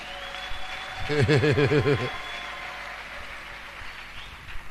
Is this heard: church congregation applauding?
yes